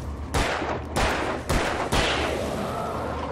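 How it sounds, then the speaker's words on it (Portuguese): Gunshots in the video game Alan Wake: four loud, sharp blasts fire about half a second apart, each cracking and tailing off into a rumbling ambient background. "Costuma ser três tiros."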